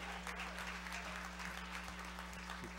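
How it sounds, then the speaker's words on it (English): Faint, distant applause from a church congregation at a Usher Anniversary service, a steady soft patter over a low electrical hum, with no voices. "Give God another round of applause"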